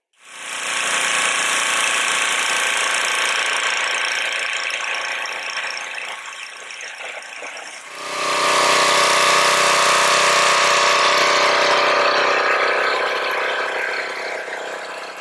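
A Duromax pressure washer runs loud and steady, its engine droning beneath the hiss of spraying water, with a surge in spray noise partway through as the flow picks up; no one speaks.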